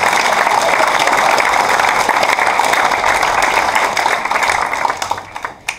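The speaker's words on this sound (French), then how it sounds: "Et vous pouvez vous applaudir." Audience at a stage show applauding steadily and loudly, a dense wash of clapping that tapers slightly toward the end.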